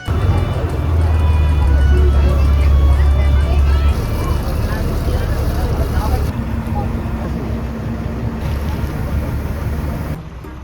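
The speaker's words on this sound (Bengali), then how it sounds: "তার মাঝখান থেকে এই যে আমাদের বোট এমবি শর্মিষ্ঠা 2।" A motor boat's engine drones low and steady on a Sundarbans river, loud and close throughout with a rushing wash of water, easing slightly toward the end; a voice talks over it.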